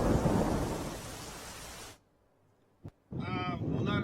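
Torrential monsoon downpour and thunder over Keshod in Junagadh: loud broadband rain roar for two seconds, a sudden near-silence broken by a single sharp crack, then heavy rain resumes with a rumbling thunder roll.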